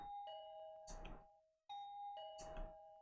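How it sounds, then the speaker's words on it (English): An intercom doorbell in a visual novel video game rings twice, each a clear electronic chime with a sharp buzzing ring, close and prominent, with a brief gap between the two rings. "The intercom began to ring while I was dozing off."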